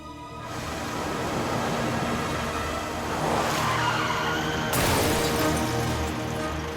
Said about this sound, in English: One of the guys heard tires screeching and that definite thud